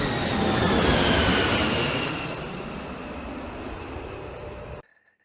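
Subway train in The Exorcist, a loud steady roar of a passing metro train that gradually fades, then cuts off abruptly into near silence.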